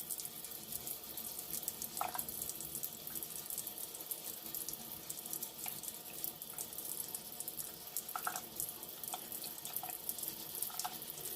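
Water runs steadily over the body of a 1964 Cadillac during wet sanding, a faint, continuous hiss and splash with a few soft drips.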